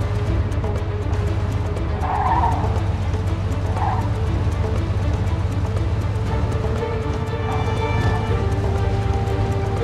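A car driven hard in the 1940s-50s crime game Mafia II, engine droning steadily and loudly with a couple of brief tire squeals, faint talk in the cabin.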